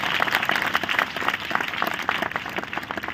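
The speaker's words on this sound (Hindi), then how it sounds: "समझ में आ रहा तो ताली बजा के प्रभु को धन्यवाद" A congregation at a religious revival gathering claps steadily in thanks to God, with fairly even, moderately loud applause filling the hall and a few voices faintly underneath.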